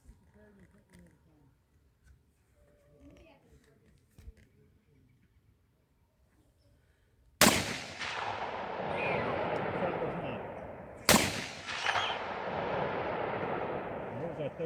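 Two loud, sharp BAF rifle shots are fired at a metal target outdoors, each followed by a long ringing decay, after a quiet stretch with faint movement.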